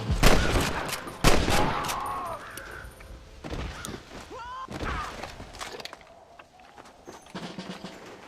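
Gunfire in the Red Dead Redemption video game: several loud bursts of rapid shots with booming impacts and whizzing effects, spread across the clip between quieter stretches of game sound.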